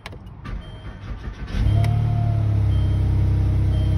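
A 2008 Land Rover LR2 SE with a Volvo 3.2-litre inline six, 188,000 miles, starting up: brief cranking and clicks, then the engine catches and settles into a loud, steady idle close by.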